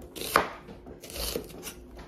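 A knife chops onions on a cutting board for a squash casserole, giving a few soft, irregular thuds close by, with no voices.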